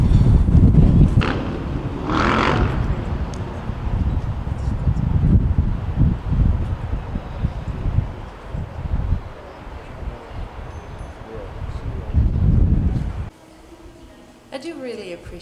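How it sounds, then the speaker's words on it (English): Strong winter wind buffets an outdoor spot in Malaga, a loud low rumbling gust noise with microphone buffeting that surges and eases, mixed with people talking over it. "It's windy."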